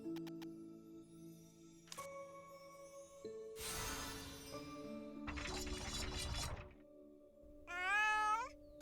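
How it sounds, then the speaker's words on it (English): Cartoonish meows from a cat in the cozy game Little Witch in the Woods come in a few short bursts between chiming game tones and bright sparkly effects, ending with a louder, drawn-out sliding meow. "I woke up to find a cat outside my house."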